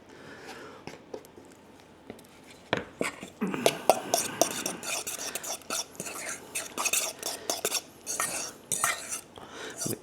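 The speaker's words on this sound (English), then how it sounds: "Mixing it in." Finely chopped spinach filling for stuffed mushrooms is stirred in a pan, with soft, irregular scraping and clinking of a utensil against the metal, close and fairly quiet, and no voices.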